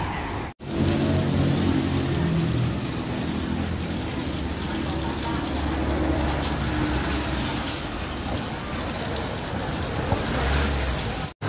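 Isuzu D-Max 1.9 diesel engine revving hard to clear soot from the exhaust, a loud continuous roar with a steady low rumble throughout, cut briefly at the start and end.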